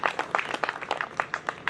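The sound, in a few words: audience applause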